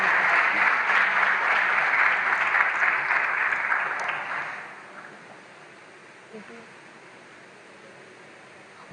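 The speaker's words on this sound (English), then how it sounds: "Please give another round of applause" Sustained applause from a conference audience at a World Press Freedom Day plenary session, loud dense clapping for about four seconds before fading out to quiet room tone.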